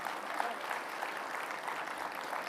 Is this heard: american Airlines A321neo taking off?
no